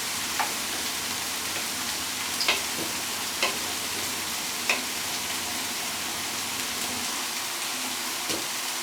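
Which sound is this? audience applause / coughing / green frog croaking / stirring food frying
stirring food frying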